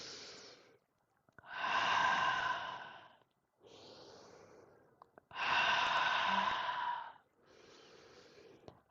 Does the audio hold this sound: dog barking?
no